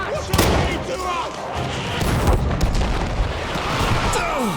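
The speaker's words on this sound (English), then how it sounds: "they're bombarding the goddamn fort" Artillery bombarding a fort in a video game, heavy booms and bursts rolling one after another amid dense battle noise, with a voice speaking over the barrage.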